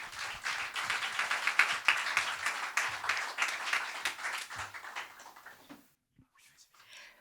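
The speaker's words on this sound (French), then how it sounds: "Merci d'applaudir très fort Mélanie." Audience applause for a speaker coming on stage at a testimonial talk, dense steady clapping for about five seconds that fades out, followed by near silence and the first faint sounds of the speaker.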